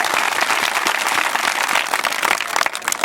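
Loud, dense applause from an audience welcoming performers before a Maithili stage play begins, a steady wash of clapping for about three seconds.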